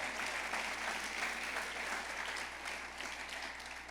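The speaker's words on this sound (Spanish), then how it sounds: "Le puedes dar un fuerte aplauso a nuestro Dios," A church congregation at a conference service applauds in a steady, even wash of clapping that fills the room without pause, somewhat distant and under a faint low hum.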